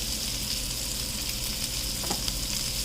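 Salmon fillets sear in a hot pan just after flipping, a steady, close, crackling sizzle that holds evenly throughout, with no talk over it.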